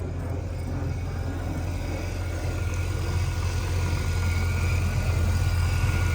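A 1999 Chevrolet Corvette convertible with a 5.7 LS1 V8 and custom exhaust idles steadily, a deep low rumble holding even and continuous throughout with no talking.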